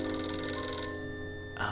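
A telephone rings in the noir detective game Blues and Bullets, a steady electronic ring held over a dense, even background score for under two seconds, with no talking.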